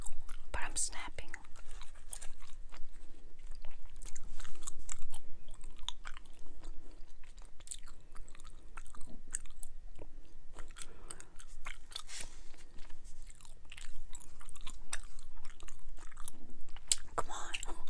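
Orbit spearmint gum being chewed close up, with wet mastication and frequent sharp snapping pops scattered irregularly throughout, intimate and quiet with occasional soft vocal sounds.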